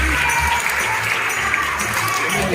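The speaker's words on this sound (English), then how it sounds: "I want a nice round of applause for Midnight" An audience at a bird show claps steadily for Midnight the hornbill, a dense, continuous round of applause with faint voices underneath.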